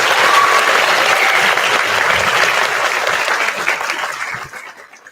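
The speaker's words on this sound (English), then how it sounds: "give them a nice big round of applause again" Sustained audience applause for a school wind ensemble at a winter instrumental concert at Chaparral, a dense steady roar of many hands clapping that thins and fades out over the final second.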